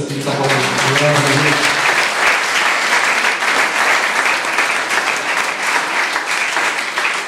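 A church congregation applauding, loud, dense clapping that holds steady for several seconds, with a voice speaking over it at the start.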